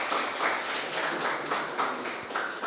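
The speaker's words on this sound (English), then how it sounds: "just a round of applause to some of the mentors" Crowd applause at the closing ceremony of a game jam in Nairobi, thanks for the event's mentors: steady, dense clapping from a room full of people sustained throughout without a break.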